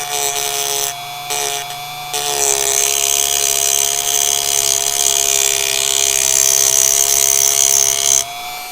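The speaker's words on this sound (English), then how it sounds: "The first thing you want to do when you're going to cut glass like this, and you're going to use a Dremel tool" A Dremel rotary tool cuts glass with a close, loud, high whine. It runs in short starts and stops at first, then holds a long sustained run before cutting off.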